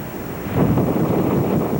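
Strong wind and surf roar at the Jersey shore on a chilly, rainy day ahead of a winter storm: a steady, dense, low rumble that swells slightly after the first half second and holds, with no voices.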